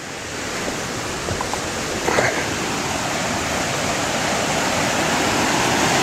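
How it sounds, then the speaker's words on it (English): Water rushes through a small chute on the Pickerel River in Quetico Park, a constant loud broadband roar that builds slightly, with a few faint knocks partway through. "This is one of the little chutes"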